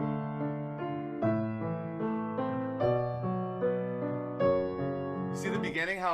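Piano plays a series of minor chords, rhythmic block harmonies stepping one after another, close and moderately loud, ending with a brief higher flourish.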